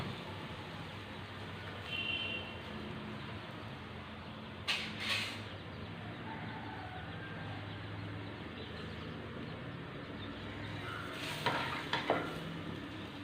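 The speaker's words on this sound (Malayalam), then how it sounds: "അതിന് ശേഷം നമുക്ക് നമ്മുടെ ബട്ടർ പത്തിരി വെച്ച് കൊടുക്കാം." Butter pathiri cooks in butter on a tawa with a faint, continuous sizzle, broken by a few soft scrapes and taps of a utensil.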